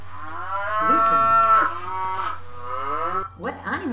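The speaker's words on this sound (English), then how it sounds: "Very good. It is a cow." A cow moos in a long, loud, drawn-out call lasting over three seconds, followed by a second shorter moo, with a steady low hum running underneath.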